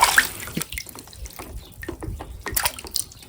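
Toy bus rinsed under running tap water, splashing and trickling in irregular bursts up close, with uneven sloshes and drips.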